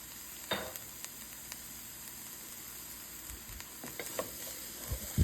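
Shredded coleslaw sautés in Asian oil in a hot pan, giving a steady bright sizzle with occasional stirring scrapes and clicks, close and continuous without talk.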